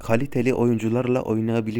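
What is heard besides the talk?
No everyday noises stand out.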